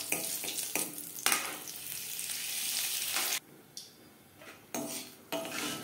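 Bay leaf, dried red chilli and whole cumin dropped into hot refined oil for a tempering for moong dal with radish, a loud burst of spitting sizzle that cuts in and out with pan clatter.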